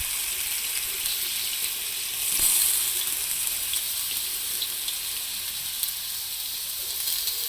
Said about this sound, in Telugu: ఆయిల్ పెట్టేసుకున్నాం ప్యాన్ మీద. ఉల్లిపాయలు, గరం మసాలా, అల్లం వెల్లుల్లి పేస్ట్ అన్నీ కలిపి వేసుకుంటున్నాము